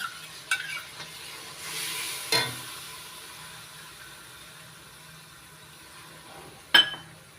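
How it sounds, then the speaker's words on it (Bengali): Spice paste of ginger, tomato, cumin, coriander and chilli frying in a pan, a quiet continuous sizzle with a few occasional clinks and scrapes of a spoon stirring. "মশলাটা ভালো করে কষিয়ে নিচ্ছি"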